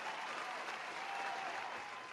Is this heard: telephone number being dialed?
no